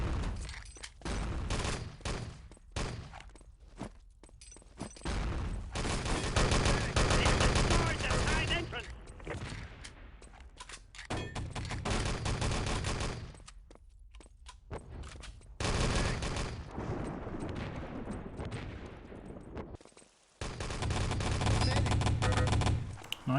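Automatic gunfire and rapid shots in a 6-on-6 LAN tournament match of Wolfenstein: Enemy Territory, loud dense bursts with brief gaps throughout, under a caster's steady commentary.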